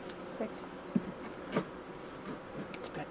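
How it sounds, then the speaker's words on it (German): Honey bees buzz at a beehive, a steady close hum with a few louder passes as individual bees fly near, no speech. "Das ist eine kleine, flauschige Biene."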